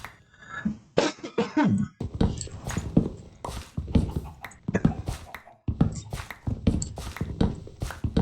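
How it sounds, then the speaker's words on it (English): A man with a sickness after a fever coughs repeatedly and hard, a long run of close, loud, harsh coughs in irregular bursts with short gaps, with no talk between them. "It's just the cough now."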